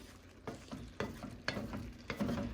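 Hamburger Helper beef pasta with meat and vegetables simmers in a pan, a soft steady bubbling sizzle with periodic stirring scrapes roughly every half second, close and quiet.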